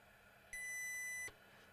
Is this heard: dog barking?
no